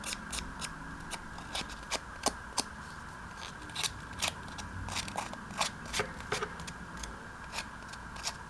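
Scissors snip repeatedly at paper edges up close, roughing them with quick crisp cuts in an uneven rhythm over a faint background hum.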